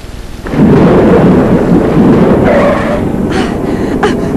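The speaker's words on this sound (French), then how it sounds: "L'orage va éclater." Loud rumbling thunder crashes from a cartoon thunderstorm, a sudden deep roll that swells and holds steadily with crackling rain-like texture, heard alone without speech.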